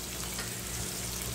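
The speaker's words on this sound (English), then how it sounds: "listen to that sizzle." Steady, close sizzling of Salisbury steak frying in a pan, a constant hissing crackle that continues without a break.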